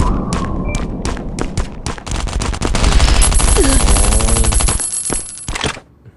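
Gunfire in the survival shooter Last Island of Survival: loud, rapid automatic bursts and shots crackle close by, building into a dense sustained volley before cutting off abruptly.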